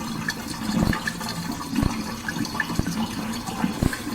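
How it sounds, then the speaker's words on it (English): A Miele dishwasher drains fast after a repair, giving a steady rushing gurgle of water that runs continuously and close by, with a few soft thuds along the way. "That's what your Miele dishwasher should drain like."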